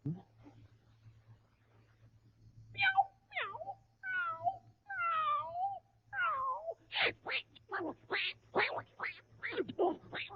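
Performers on a 1939 radio broadcast imitate a cat fight with their voices, trading rising and falling meows that build into a fast run of loud, clipped yowls and squalls over a faint steady hum.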